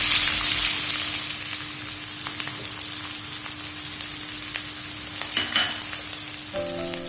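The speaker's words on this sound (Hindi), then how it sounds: "उसमें 1 कप ऑयल गर्म करने के बाद प्याज और लहसुन को फ्राई कर लेंगे" Onion and garlic fry in a cup of hot oil in a kadai, giving a steady loud sizzle close by with occasional stirring scrapes, no voices.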